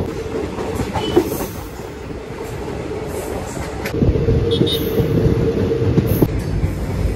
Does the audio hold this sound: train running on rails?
yes